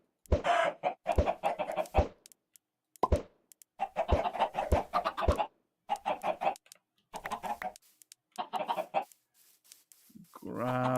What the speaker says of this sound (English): I've been throwing eggs on the ground to get a white chicken up here